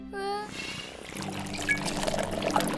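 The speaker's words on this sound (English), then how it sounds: "let's put in all the bubble mix" Bubble mix pours into a bus in a cartoon, a short trickling, splashing flow that follows a brief sung or spoken voice, with faint chatter around it.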